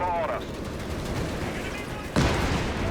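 Machine gun fire in the real-time strategy game Company of Heroes 3, with steady rattling gunfire and rumbling battle noise under a commentator's voice, and a sharper, louder burst near the end.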